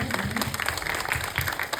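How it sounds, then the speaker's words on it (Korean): Audience applause at the Bucheon International Film Festival after a short film screening; steady, moderate clapping from a crowd, brief and continuous, with faint voices underneath. "박수 부탁드릴게요"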